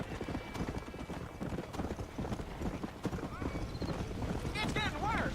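Frightened horses trapped in a burning barn in the Red Dead Redemption video game, with rapid hoof clatter, stamping and shrill whinnies rising toward the end, heard under voices talking.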